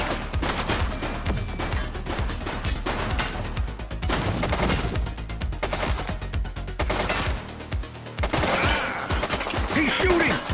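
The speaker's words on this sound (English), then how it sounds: "He's shooting!" Sustained machine-gun and rifle fire in a police shootout in The Precinct, dense rapid bursts close and loud throughout, with voices speaking over the shooting.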